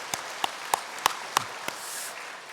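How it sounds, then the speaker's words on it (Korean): Sparse applause from a church congregation welcoming newly registered members at a Sunday service, a few loud distinct claps over a soft crackling wash of clapping, fairly close and without talk. "잠깐 자리에서 일어나시면 박수로 환영하도록 하겠습니다."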